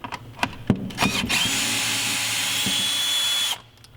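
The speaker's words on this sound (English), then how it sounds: "Drill that out and put it in your pan." A power drill works on a T25 screw inside a Mercedes Sprinter van. A few clicks and taps come first, then the motor whines at a steady high pitch for about two seconds before stopping abruptly, loud and close.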